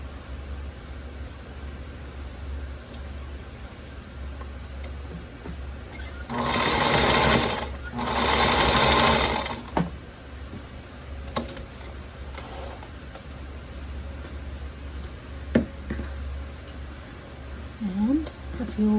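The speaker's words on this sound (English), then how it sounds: "So if you sew this on a scant 1/4 inch, it'll be perfect" Sewing machine stitching quilt block pieces on a scant quarter-inch seam, heard as two short bursts of steady whirring against a quiet room hum, with faint clicks afterward.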